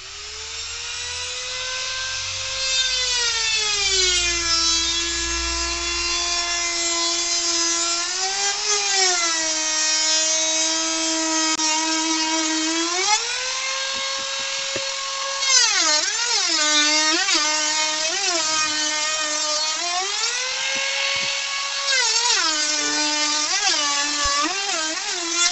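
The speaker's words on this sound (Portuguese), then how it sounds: "tupia simples, uma tupiazinha laminadora" A small trim router cuts wood in a steady, loud high-pitched whine that dips and recovers in pitch again and again as the bit bites into the workpiece, running continuously throughout.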